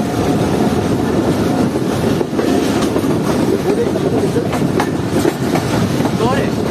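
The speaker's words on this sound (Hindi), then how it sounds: "अब हमारी ट्रेन बढ़ रही है अगले ब्रिज की तरफ।" The Jaffer Express passenger train rolls along toward a bridge on a winter journey, with a loud steady rumble and clickety-clack of wheels on rails heard from inside the carriage and a brief squeal near the end. A voice speaks over the noise.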